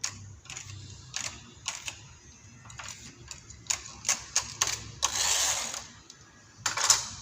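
Knitting machine needles being pulled back, a series of sharp metallic clicks and clacks in irregular bursts, with a longer rasping slide partway through, close and fairly clear.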